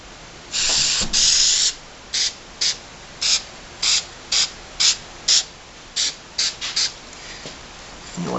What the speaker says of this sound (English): All right, so let's spray paint here.